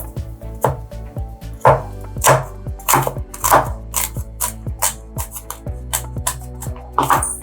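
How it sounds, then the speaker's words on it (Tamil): Steady knife chopping of garlic on a cutting board, close up, with crisp regular strikes about twice a second and no voices. "பூண்டு நல்லா சின்ன சின்னதா நறுக்கிக்கலாம்"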